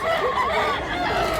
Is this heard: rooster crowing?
yes